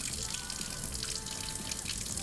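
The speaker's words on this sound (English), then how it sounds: "we're gonna rinse this through cold water" Cold tap water runs steadily over tie-dyed swimwear fabric being rinsed in a sink, a close, continuous splashing trickle with no voices.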